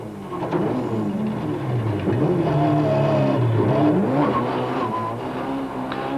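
A Ford Laser rally car drives hard through the streets of Malmesbury during the 1992 Swartland Rally, its engine revving loud and close with rising and falling pitch through gear changes.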